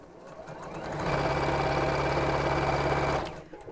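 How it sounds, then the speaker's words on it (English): A sewing machine stitches around the edge of a drawstring bag, its motor running in one steady, close, continuous burst for about two seconds before stopping, with no voices. "so just sewing, literally just around the edge"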